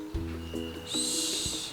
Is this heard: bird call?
yes